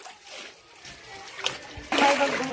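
Water splashing and sloshing inside a flooded house. The splashes start soft, then surge louder near the end, with faint voices in the background.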